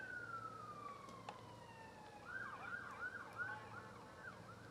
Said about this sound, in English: That's what that siren is.